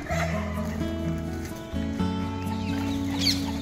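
Japanese bantam chickens, a small flock of hens with a rooster being let into a cage, give soft, intermittent clucks over a steady tonal background hum, with no voices.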